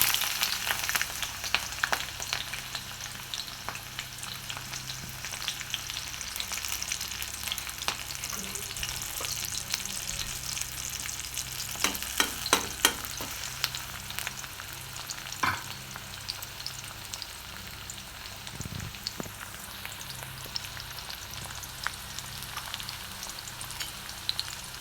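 Onion and green chillies fry in hot oil with a continuous close sizzle and crackle, scattered pops and scraping stirs throughout, no talking.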